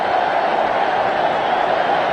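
A cricket stadium crowd roars steadily in a continuous wash of cheering as Sanjay Bangar reaches his fifty against West Indies, loud and sustained with no break.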